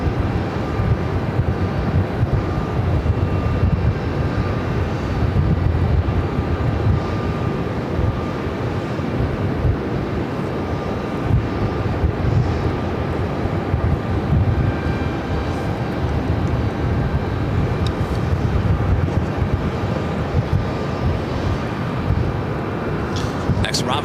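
An Air Canada airliner taxiing at Phoenix airport, its engines giving a steady, loud jet roar and whine throughout, with wind buffeting the microphone.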